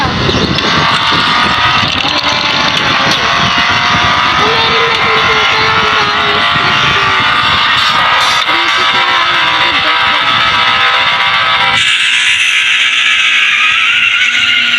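A car drives in the Dude Theft Wars video game, its engine droning loudly and steadily with rising pitch lines as it speeds up and shifts. The engine tone changes abruptly near the end, all over constant game noise.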